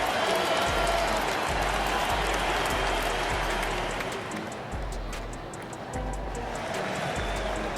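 A home arena crowd in NBA 2K23 applauds and roars in a steady, dense wash that dips briefly midway and then swells back, with faint talk underneath.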